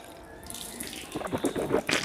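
Tap water runs into a basin for rinsing the mouth during wudu, a light splashing stream that grows louder and more gurgling after the first second, close by and with no talk.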